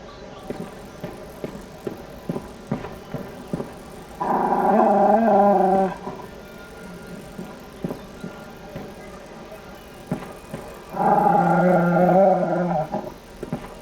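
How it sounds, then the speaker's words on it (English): A dog in The Bard's Tale video game lets out two loud bursts of growling, snarling barks several seconds apart, over a quiet background of faint clicks and ticks. "Good dog."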